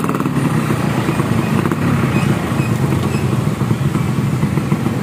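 A Yamaha RX King motorcycle runs with a modified exhaust, a loud, close, continuous two-stroke engine drone that holds steady throughout with no talk over it.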